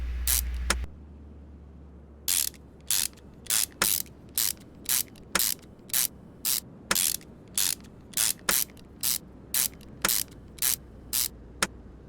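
Long bolts being unscrewed on a junkyard car in Car Mechanic Simulator 2021, heard as a steady run of about sixteen short, sharp mechanical whirring bursts at an even rhythm. The bursts are loud and close, with no talk.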